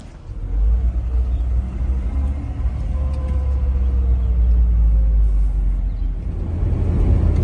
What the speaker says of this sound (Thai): ก็ยังคงขับรถไปเรื่อยๆ